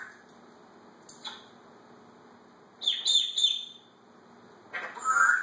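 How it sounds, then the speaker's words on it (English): Small bird chirps sound indoors: a thin high tweet, then a short burst of rapid chirping, then another chirp near the end, with quiet background between. "And a bird. That's a bird."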